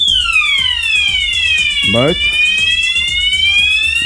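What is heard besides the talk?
fire alarm sounding in a building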